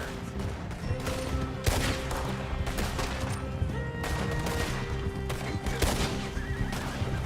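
Red Dead Redemption 2 gameplay: bursts of gunfire crack out in several loud volleys alongside a horse neighing and hooves clopping, a dense, busy mix of shots and animal sounds throughout.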